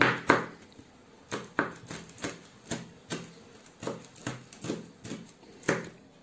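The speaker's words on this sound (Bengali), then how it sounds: "এখন কুচি কুচি করে মরিচ কেটে নেব।" A knife chops chili peppers finely on a cutting board for an omelette, with a steady series of sharp, close taps at an even rhythm and no one speaking.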